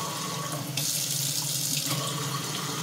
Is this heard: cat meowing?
no